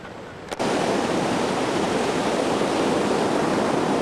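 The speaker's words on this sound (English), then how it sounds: "fairly rough water this morning" Rough ocean surf on a Costa Rica beach on a morning with the tide out: a steady, loud roar of breaking waves that switches on abruptly and then washes on unbroken without pause.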